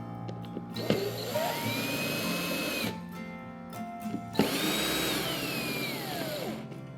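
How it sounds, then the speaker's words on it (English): Two bursts from a cordless power driver sinking Phillips head screws into an Otter XT Lodge fish house frame, each a whirring rise that pitches down as the screw seats, close and loud with brief clicks between. "screw it in with the 2 Phillips head screws like we did before"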